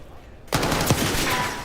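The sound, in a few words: gunfire in the video game Call of Duty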